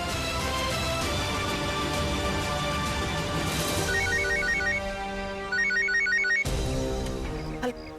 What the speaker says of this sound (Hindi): सोमेंद्र, तुम फौरन सरोजिनी को फोन करो